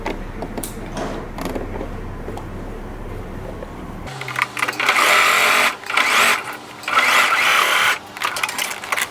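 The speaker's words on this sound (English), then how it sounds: "now you're going to go ahead and stitch from one end like this all the way down to the other end" A sewing machine stitches the seam of a pair of shorts. After a few seconds of quiet handling, it starts up loud and near in three sustained runs separated by brief pauses.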